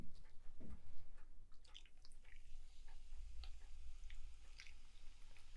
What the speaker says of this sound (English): And then we're gonna pour our tonic.